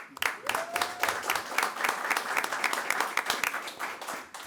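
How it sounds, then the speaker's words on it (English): An audience at a school board meeting claps steadily for a student being honoured, a dense, lively round of applause lasting the whole few seconds with no voices over it. "let's clap for that"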